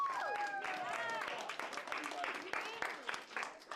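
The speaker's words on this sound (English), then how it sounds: "Round of applause for yourselves." A crowd claps and applauds over a steady noisy wash, with several voices calling out through the clapping.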